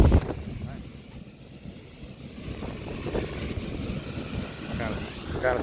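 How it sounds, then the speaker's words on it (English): A home furnace blower kicks in with a low, broad whooshing rumble that builds and holds steady close by, with a voice speaking over it. "That blower kicked in, but anyway, it's heating."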